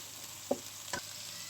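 Thick-cut tomatoes frying in a pan for dhaba-style bhindi masala give a soft, steady hiss, broken by two brief clicks near the start.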